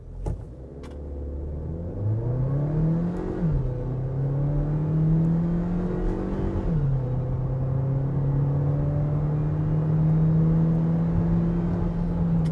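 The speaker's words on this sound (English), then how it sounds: "Haval doesn't have an official 0 to 100 time for the Jolion, but we've put it up against our stopwatch and this is how it went." A 2022 Haval Jolion turbo accelerating hard from 0 to 100 km/h, its engine droning and climbing in pitch, with two clear gear shifts before the note settles into a steady pull.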